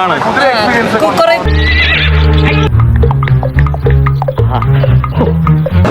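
Horses from the film Indian 2 whinny loudly several times over galloping hooves and dramatic music, with voices mixed in.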